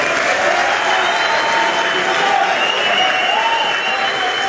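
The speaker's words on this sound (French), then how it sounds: "Il mérite énormément d'applaudissements" A crowd at a comedy show in Montreal gives sustained, dense applause for the Congolese comedian Herman Amisi, loud and steady throughout.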